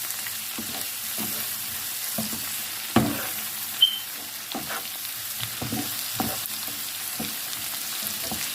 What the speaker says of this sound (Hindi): अब इन तमाम चीज़ों को अच्छे से हम मिक्स कर लेंगे।